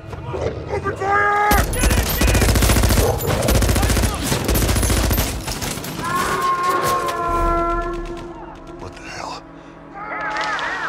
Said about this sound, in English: Set a perimeter! Open fire!